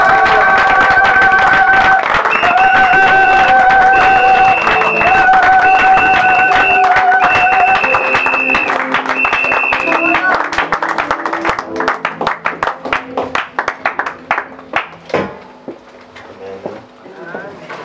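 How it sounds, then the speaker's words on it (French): A church congregation applauds and cheers in praise, with steady crowd clapping alongside sustained sung or organ-like tones, then the clapping thins into scattered claps near the end. "nous acclamons le Seigneur"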